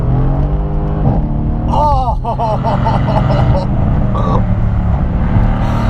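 A 2017 Mercedes C63 AMG S with its exhaust baffles open accelerates at full throttle, the loud engine note climbing through rising gear pulls with a sharp exclamation over it.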